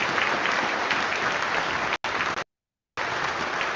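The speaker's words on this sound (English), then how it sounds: "Let's give her a round of applause." An audience claps during a Mandela Day tribute event, dense sustained applause that cuts off abruptly twice before resuming.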